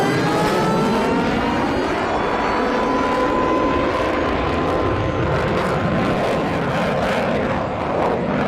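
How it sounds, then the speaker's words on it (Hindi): Fighter jets fly overhead in Pakistan, a loud continuous roar that fills the whole stretch with no break or fade. "पाकिस्तान में लगातार लड़ाकू विमान उड़ते हुए दिखे हैं।"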